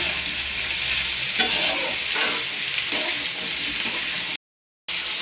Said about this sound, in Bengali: এটাকে নাড়তে থাকে ভালো করে